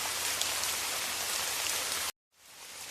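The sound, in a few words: rain sound effect in a Hindi horror story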